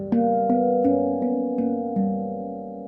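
An Axiom Apex outie handpan is struck six times in an even, unhurried rhythm, each bright metallic note ringing with sparkly overtones and overlapping the next, close and clear with no voices.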